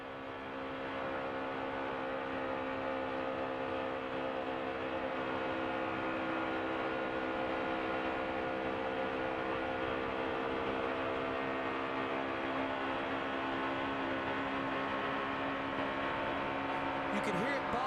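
Denny Hamlin's No. 11 NASCAR Cup car runs at an unchanging high RPM around Daytona, heard onboard. The engine gives a steady, even drone with no shifts in pitch, and the level stays constant throughout.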